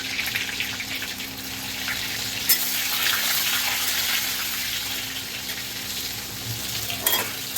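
Continuous sizzle of cumin seeds and green chillies frying in oil, fairly loud and even, with a couple of sharp clicks or pops near the start and end; no talking.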